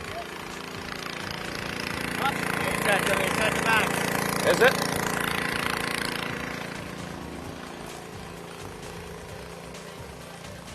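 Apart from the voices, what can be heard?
sealcoating machine engine idling up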